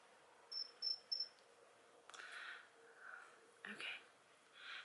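A Samsung smartwatch calendar notification chirps like a cricket in three quick high-pitched bursts, followed by someone talking indoors.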